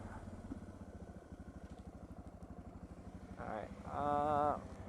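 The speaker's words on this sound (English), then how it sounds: "you really stab the throttle, it takes off. Especially now that it has fuel." Suzuki DR650SE motorcycle engine fitted with an FCR-MX carburetor, idling with a steady close thump, then revving up in a short throttle stab near the end.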